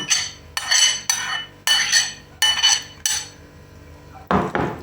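Onion and cheese filling for khachapuri is stirred in a bowl, a spoon clinking and scraping against the dish in about six rhythmic strokes, close and clear, ending with a louder clatter.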